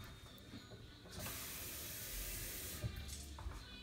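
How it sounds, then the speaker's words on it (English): Water pours from a cup into a cooking pot for black beans and rice, making a steady, moderately loud rushing splash for about two seconds that ends in a few small drips. "That was 1 cup of water,"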